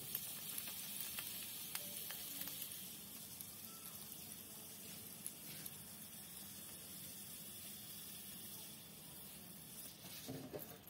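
Oil sizzles steadily in an appe maker pan on a gas stove, a close, even frying hiss with a few faint clinks partway through and no voices.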